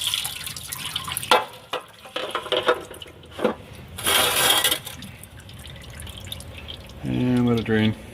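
Transmission fluid draining from the pan of a Ford SuperDuty 5R110W transmission, heard as uneven drips and splashes that come and go, with a steadier pouring stretch midway and a person talking near the end.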